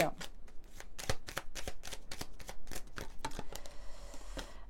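Oracle cards are shuffled to draw an advice card in a rapid, steady run of crisp close riffles and flicks that fills the whole moment.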